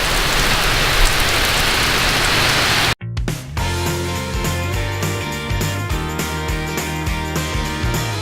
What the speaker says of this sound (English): it is pouring down rain outside